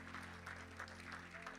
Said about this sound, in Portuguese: Os que podem, tomem seu assento aplaudindo a Jesus